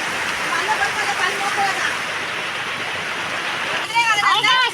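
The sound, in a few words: heavy rain falling during planting in the field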